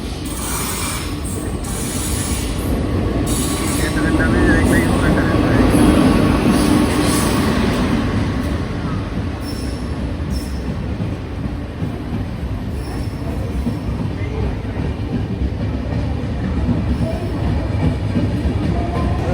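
A passenger train on a Kerala to Chennai journey rolls steadily along the rails, its wheels and carriages giving a continuous loud rumble with some squealing and clatter throughout.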